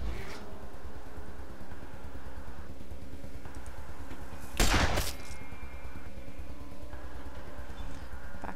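A single sharp gunshot in the video game Wasteland 2 rings out midway over a steady, droning game background, with no other shots around it.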